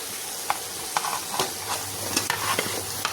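Chopped, washed cabbage going into spiced potatoes and peas frying in a kadai, a steady sizzle broken by the scrape and clack of stirring, with no voices.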